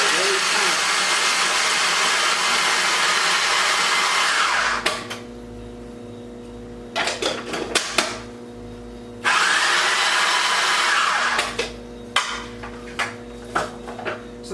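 A kitchen appliance grinds pecans on high in two loud, harsh bursts of whirring several seconds long, each followed by clattering and knocking as it stops.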